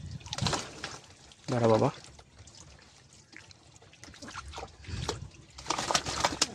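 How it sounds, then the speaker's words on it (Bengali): Water trickles and splashes over a pigeon as it is bathed by hand, in short uneven bursts close by, with a person talking throughout. "পালকে দেখো, জল লাগছে না, জল এরকম ধরে পড়ে যাচ্ছে"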